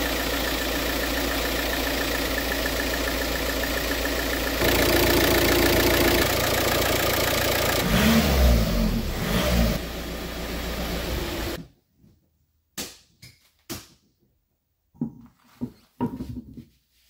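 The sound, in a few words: Audi A3 8P 2.0 TDI engine running after timing belt change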